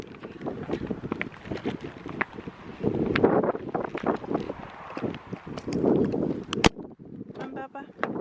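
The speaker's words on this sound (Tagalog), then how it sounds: "Lakas pa rin ng hangin." Wind buffets the microphone in strong, rumbling gusts, while people talk nearby.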